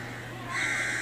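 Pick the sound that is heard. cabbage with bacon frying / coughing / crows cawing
crows cawing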